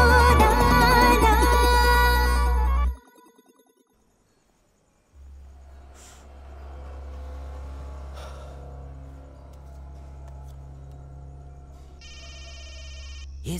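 A telephone rings in a movie scene, its bright repeated electronic trill cutting in near the end after loud music stops abruptly and a stretch of quiet, low hum follows.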